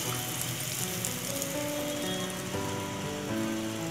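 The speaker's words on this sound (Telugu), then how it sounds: "ఇప్పుడు మనం ఆయిల్లో వేసుకుందాము" Poornam balls coated in batter sizzle steadily in hot oil for Ugadi-style poornam boorelu, a dense continuous crackling frying hiss with no speech over it.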